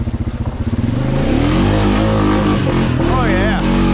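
A two-wheel-drive quad ATV engine revving hard on a hill climb, loud and close, pulsing at first then rising into a sustained high-revving roar with shifting pitch.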